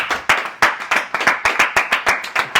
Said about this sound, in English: can we all give Richard Tunney a round of applause as well?